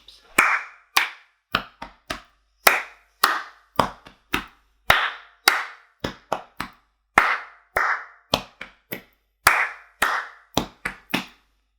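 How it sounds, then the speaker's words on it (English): Body percussion: one person claps, pats and slaps in a repeated rhythmic pattern, crisp close hits in short groups separated by brief pauses, heard alone. "we're going to explore the different sounds that we can find using our bodies. And in music, we call this body percussion."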